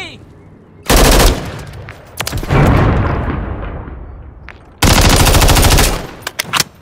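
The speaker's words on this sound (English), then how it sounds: "They're shooting at me!" Gunfire in the video game Call of Duty during a team deathmatch: loud bursts of rapid automatic fire, a long volley followed by another sustained burst later, with a booming decaying echo between them.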